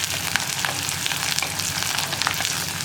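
Curry leaves crackling in hot oil for a Kerala chena erissery, a bright dense sizzle with small popping bursts, close and continuous with no voices.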